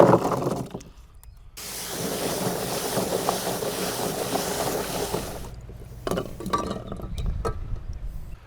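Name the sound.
washing freshly harvested water chestnuts in water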